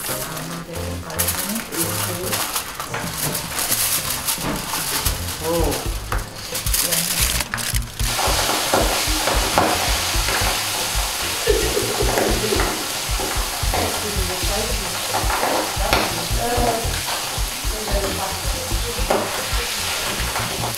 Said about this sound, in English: catfish in very, very hot oil